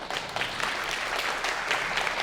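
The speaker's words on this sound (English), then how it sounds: "let's cheer it up for them" An audience claps steadily for performers at a graduation celebration, a dense sustained patter of many hands at close-to-moderate distance, with no talk over it.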